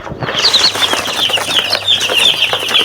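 Chickens in a coop on a farm in Nepal, heard close and loud with a constant chorus of shrill chirping and clucking, plus some rustling and flutter throughout.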